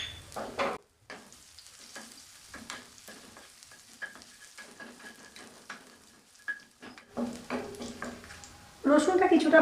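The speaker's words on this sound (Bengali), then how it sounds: "রসুনটা কিছুটা ভাজা হয়ে গেছে।" Crushed garlic, two dried red chillies and whole mustard seeds frying in a wok, a soft sizzle broken by scraping stir strokes and brief gaps, with a louder burst of crackling near the end.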